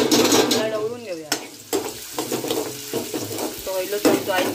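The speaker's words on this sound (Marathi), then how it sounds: "आता आपण तेल घातलं कढई आणि कढई चांगली तापली की फोडणी घालूया" Chopped onion sizzles in hot oil in a heated kadhai for a tempering, with a spoon stirring and scraping the pan, while a voice talks intermittently over the frying.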